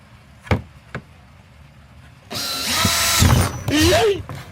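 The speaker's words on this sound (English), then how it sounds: "I'm gonna start drilling these holes." A power drill bores holes through a plastic bucket indoors: a couple of sharp knocks come first, then the drill whines loudly and steadily for about two seconds, its pitch rising near the end.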